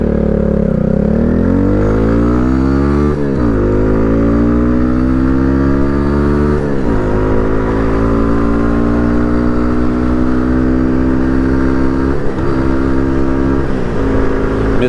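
A Kawasaki Z motorcycle ridden in freezing weather revs up through several gears, each shift dropping the pitch before it climbs again, loud and close with steady engine drone and no talk.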